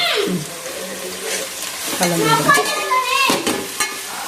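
Onions sautéing with salt in a pan for a vegetable biryani, stirred with a spoon: loud close sizzle with scraping strokes and clatter. A faint voice is audible underneath.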